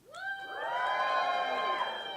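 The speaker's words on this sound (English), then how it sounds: "Who's cheering for Donald?" A small audience at a fencing demonstration whoops and cheers for one of the fencers, a loud burst of mixed voices rising quickly and holding for about two seconds.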